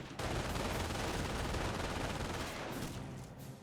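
Volksgrenadier rifles in Company of Heroes crackle in a dense, continuous burst of gunfire that holds steady and then tapers slightly, heard alone without talk.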